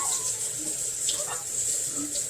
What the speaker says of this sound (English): I'm going to rinse this real good.